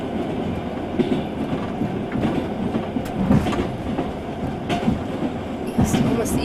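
The Trans-Siberian train rolls along the rails between Beijing and Moscow in 1990, a loud continuous rumble of carriage noise with faint rhythmic clatter and occasional knocks.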